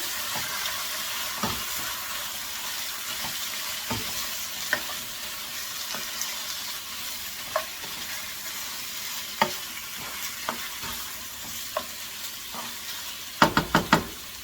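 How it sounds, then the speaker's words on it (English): Shrimp and beef frying in a stir fry, a steady close sizzle running throughout, broken by occasional knocks of a utensil against the pan and a quick cluster of taps at the end. "We're going to go ahead and throw in the shrimp and the beef. I'm just going to get that cooking."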